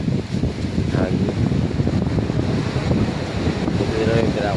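Strong wind buffets the microphone in a steady, rumbling roar on a cold, stormy camping and fishing trip in Quezon, loud and continuous throughout with no clear breaks.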